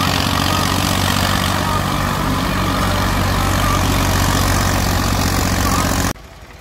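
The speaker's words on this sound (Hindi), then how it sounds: "ये 3 सिलेंडर में 45 हॉर्स पावर ट्रैक्टर है प्रीत का" A Preet 4549 three-cylinder 45 hp tractor engine runs steadily with a loud, low rumbling drone throughout, close up, then cuts abruptly to a quieter level near the end.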